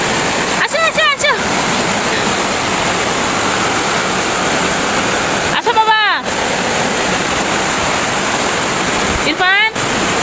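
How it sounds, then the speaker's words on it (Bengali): Torrential storm rain roars as a constant rushing wash close by, while a voice briefly cuts in a few times over the downpour. "ওই দিক বৃষ্টি আসতেছে"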